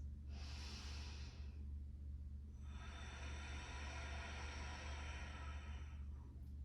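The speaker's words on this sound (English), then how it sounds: "Let's take 3 more breaths." Deep breathing during a yoga session, two long airy exhales close to the mic separated by a quiet pause, over a low steady background hum.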